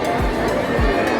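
A dense crowd murmurs at the Utsav festival in Dombivli, a steady fairground hubbub of many voices with a few low thumps underneath, loud and continuous throughout.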